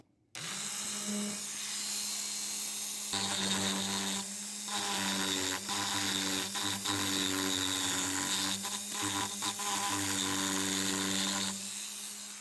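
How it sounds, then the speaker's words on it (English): A Dremel fitted with a small saw blade cuts into a vintage sign under restoration, a high buzzing whine broken into short bursts and pauses as the tool bites, close and fairly loud. "now I'm going to try this little saw blade I have here and do a little more work on it with this Dremel."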